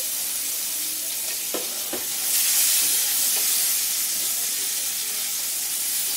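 Chopped onion fries in oil after whole spices, making a steady, close hiss and sizzle that swells a little midway, with a couple of faint scraping stirs.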